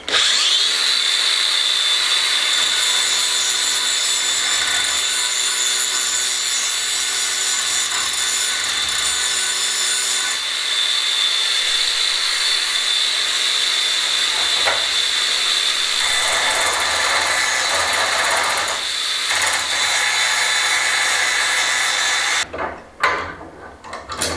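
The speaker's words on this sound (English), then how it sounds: "I'm just going to take a bit of paint off these so I can get a good connection to the earth on my bench" Power tool grinding paint off metal pieces before welding, a loud continuous abrasive whir that holds steady for over twenty seconds, then cuts out and sputters briefly near the end.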